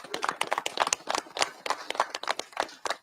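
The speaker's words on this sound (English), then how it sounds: "Please give them all a round of applause as well." A small outdoor crowd at a bridge reopening claps, sparse distinct hand claps at an uneven pace, fairly faint and open-sounding, with no voices over them.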